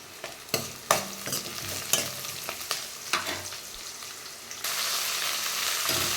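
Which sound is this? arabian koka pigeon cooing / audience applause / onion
onion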